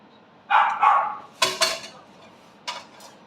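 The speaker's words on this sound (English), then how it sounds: "as you can hear again, my lovely dog in the background." A pet dog barks a few times in the background of a home kitchen during a meal of pork fillet steaks. The sharp, mid-distance barks come in two short bursts, with clattering dishes in between.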